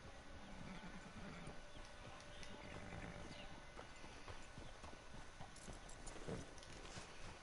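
Horse hooves clip-clop steadily on the ground in Red Dead Online, a continuous rhythmic trot of moderate loudness at close range, with a brief whinny and some faint background ambience, no talking.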